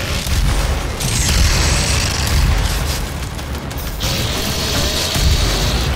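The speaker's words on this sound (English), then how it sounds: "Actually, I have a rocket launcher." Rocket launcher blasts in the shooter game Doom (2016), heavy booming explosions landing in a dense, loud barrage, a couple of big detonations rolling out with rumbling tails and no speech.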